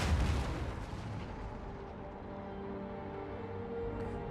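Cannon artillery fire in Total War: Empire during a Sweden campaign battle: a heavy, loud boom opens, then a long rolling rumble and battle din trail off, with no talk.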